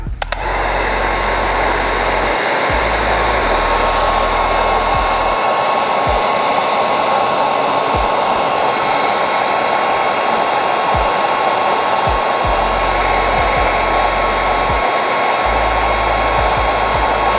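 A heat gun blows steadily on the protective film over a 2014-2021 Jeep Grand Cherokee tail light, a loud continuous airy roar with a whining motor tone, close and unbroken throughout.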